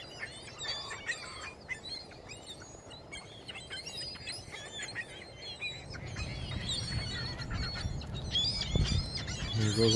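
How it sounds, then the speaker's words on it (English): A flock of ducks near a shore where ring-billed gulls are fed, giving many short honking and chattering calls at a moderate distance, overlapping continuously over a low outdoor rumble that grows stronger toward the end. "There goes a bunch of ducks."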